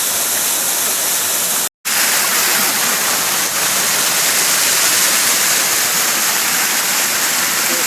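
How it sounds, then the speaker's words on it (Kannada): A small waterfall on a stream, with water foaming down like milk: a loud, continuous close rush of falling water, broken by a brief dropout in the first two seconds. "ಸಣ್ಣ ವಾಟರ್ ಫಾಲ್ಸ್ ಇದು"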